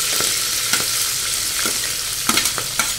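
Green chillies, curry leaves and onions fry in a pan with a loud, continuous sizzle, broken by a few sharp scraping stirs, no voices.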